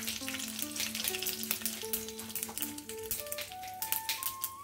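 Mustard seeds sputter and crackle in hot tempering oil for a Tamil kitchen dish, a steady dense sizzle with rapid pops close by and no talking.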